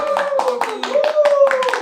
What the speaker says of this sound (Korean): 박수 똑바로 안 쳐.